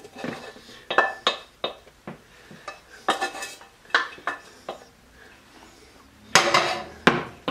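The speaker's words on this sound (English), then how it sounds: "I'm going to put everything I just did into this bowl" Cooked food for chorizo and potato empanadas is tipped and scraped from a pan into a bowl, with a string of close, irregular metallic clinks and knocks of utensil against cookware.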